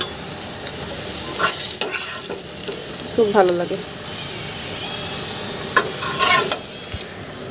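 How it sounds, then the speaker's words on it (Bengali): Teasel gourd slices frying in a pan: a soft continuous sizzle with intermittent scraping stirs and clinks, close by, while someone talks over it. "আর এদিকে আমি কাঁকরোল ভাজা করতেছি।"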